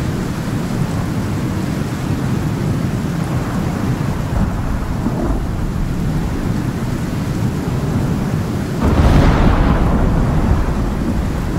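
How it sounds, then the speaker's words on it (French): Thunder rolls in a storm in the survival game Icarus, a steady loud rumble over constant rain that swells near the end, with no voices. "Tonnerre"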